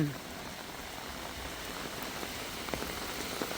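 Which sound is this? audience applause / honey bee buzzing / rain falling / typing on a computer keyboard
rain falling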